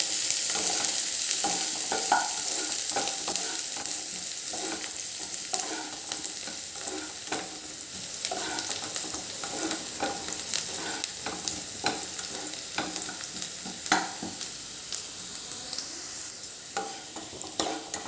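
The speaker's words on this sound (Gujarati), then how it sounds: "આઠથી દસ લીમડીના પાન છે તે એડ કરીશું આને આપણે બેથી ત્રણ મિનિટ સુધી શેકી લઈશું" Green chili and curry leaves frying in a pan give a continuous crackling sizzle with scattered pops and occasional stirring scrapes, close and steady throughout, with no voices.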